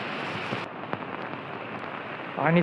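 Heavy rain in Raigad, in Maharashtra's Konkan region, pattering continuously on a surface as water floods the area, a dense even hiss with a short burst of noise at the end.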